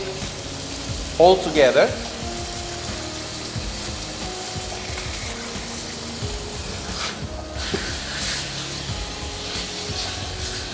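Sausage braising slowly in a pan on the stove for a celery soup, a steady low sizzle running throughout with a brief clatter near the start and a few soft stirring sounds, a voice briefly speaking over it.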